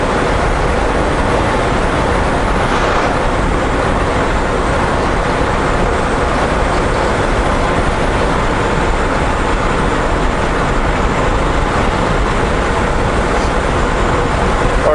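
Heavy truck cruising in 18th gear at lowered RPM, a steady broadband road and engine drone filling the cab continuously without pause.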